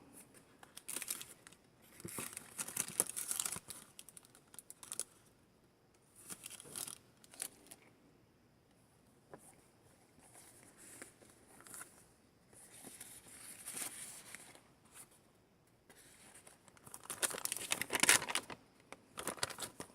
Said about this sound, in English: Here's a glassine bag.